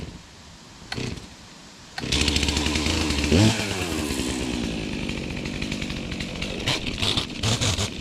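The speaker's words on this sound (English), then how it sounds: "I gotta cut a couple trees here" A chainsaw is cut into trees in the woods. After a quiet start with a couple of brief knocks, the saw revs up loudly and runs on steadily, with its pitch rising and falling as it works.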